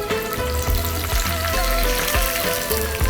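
Dried red chillies fry in hot oil with a steady, loud crackling sizzle, broken by a few sharp pops and stirring scrapes, while a Kerala puli inji is being cooked.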